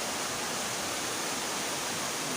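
Strong waterfall on Biliran island: a steady, dense roar of rushing water, loud and close, unbroken for the whole stretch with no voices.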